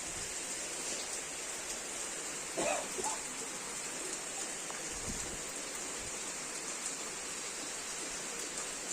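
Rain falling steadily outside a home, a soft continuous hiss with faint scattered drops and a few brief knocks, no voices.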